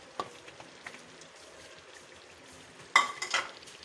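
Mutton karahi with chopped ginger and green chillies sizzles softly in a pan over high flame, with a few scraping stirs near the start and a louder burst of stirring and sizzling toward the end.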